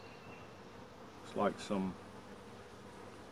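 Honeybees crowd a hive frame of drawn comb holding nectar and pollen, their steady low buzz hanging close throughout while a voice speaks a brief phrase midway.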